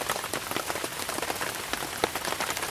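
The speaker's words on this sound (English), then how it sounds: "Because the rain's not letting up." Steady rain falls on an overnight campsite in Uwharrie, a dense patter of drops striking close surfaces like a tent or tarp, with scattered sharper taps rising above the continuous hiss.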